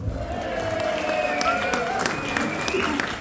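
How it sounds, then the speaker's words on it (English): Audience applause with crowd noise fills a theatre during a Friday night comedy show, a steady, dense wash of clapping that holds at an even level throughout, with some voices mixed in. "Give yourselves a round of applause for turning up."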